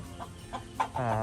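A farmyard chicken makes three short, evenly spaced clucks close by, then breaks into a longer, drawn-out call at the end, with no talking over it.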